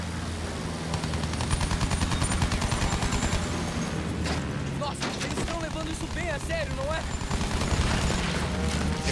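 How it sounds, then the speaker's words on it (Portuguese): Rapid gunfire from the video game Battlefield 1 crackles in dense bursts throughout, loud and continuous, with a voice talking over the shooting and in-game sounds. "Tô tomando tiro."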